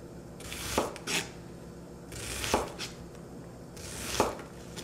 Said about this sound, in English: Diced onion in about 30 seconds.